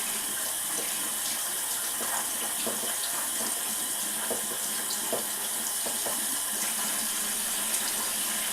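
Tap water runs steadily into a sink to wet a makeup powder brush, a close, continuous splashing hiss with faint dabbing and spattering as the brush goes under the stream.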